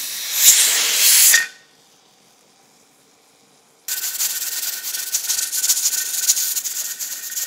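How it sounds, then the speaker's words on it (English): Steady broadband hiss of steam venting from an All American pressure canner, loud and close, cutting off into near silence for a couple of seconds before the continuous hissing resumes. "there's been a steady steam for 10 minutes."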